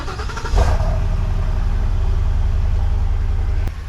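A Ford F-250 Super Duty engine turns over via remote start, catching with a loud surge and then settling into a steady, close rumbling idle with no talking.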